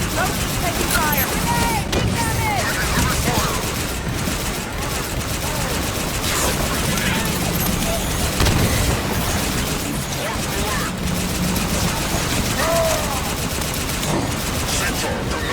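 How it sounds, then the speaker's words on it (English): Rapid automatic gunfire and bursts in a Halo 5: Guardians cutscene battle, dense and continuous across the scene, loud and close, with shouted voices and mechanical noise mixed in. "Taking fire!"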